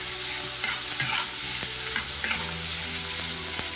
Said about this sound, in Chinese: 倒入鸭肉，大火翻炒，一定要多炒一会儿